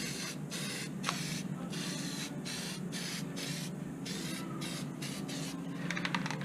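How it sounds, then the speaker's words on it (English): Disc brake quiet sprayed from an aerosol can onto the rear brake pads of a Suzuki SX4, a steady close hiss broken by several short pauses between bursts. "I like always putting some disc brake quiet. It's almost like spray paint."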